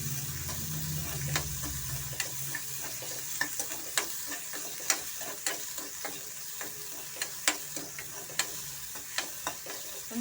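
Cabbage manchurian tossed briefly in a hot pan, a close, steady sizzle punctuated by a regular run of sharp spatula scrapes and clacks, with no talking.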